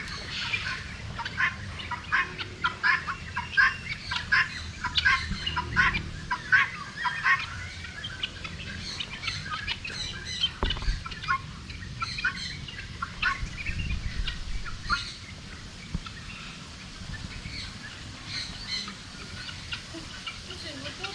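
Caged birds at Bali Bird Park in Ubud, Indonesia, call in repeated gobbling, fowl-like bursts at mid distance, with people chatting quietly nearby.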